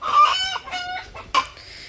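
A village rooster, caught from the farm to be cooked, crows and clucks loudly up close in harsh, strained calls with a sharp squawk near the end.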